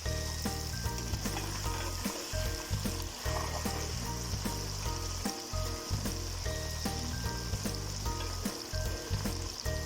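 Mutton fries with onions and tomatoes in a pan for Peshawari-style gosht, a loud, steady sizzle with crackles and stirring throughout, and no one talking.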